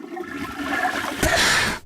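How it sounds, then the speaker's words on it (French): A toilet flushes in a bathroom, a loud continuous rushing swirl of water that swells toward the end, close by with no talking. "Tire la chasse d'eau."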